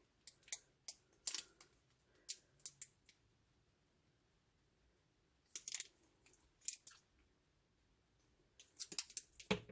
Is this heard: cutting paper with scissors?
yes